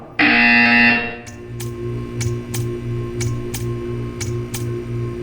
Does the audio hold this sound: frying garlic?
no